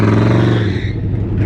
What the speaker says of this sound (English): that bike is so loud